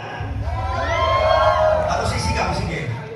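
A crowd at a union rally against corruption in the Philippines shouts together in a loud, ragged burst of many raised voices, swelling and then trailing off into scattered yells.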